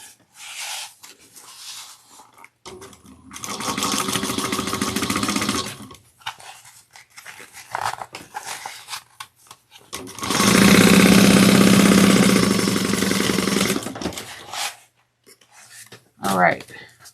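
Sewing machine back stitching a bag runs in two long rapid bursts of mechanical needle chatter, separated by quieter handling clicks and rustles of fabric.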